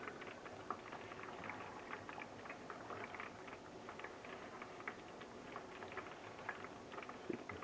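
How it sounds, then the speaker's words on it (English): Leaf lard rendering in a pot as moisture boils off: a faint, continuous bubbling and crackling with scattered soft pops, steady throughout. "the moisture boils off"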